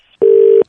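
A sustained telephone tone from a prank call, one steady loud beep lasting under half a second before it cuts off.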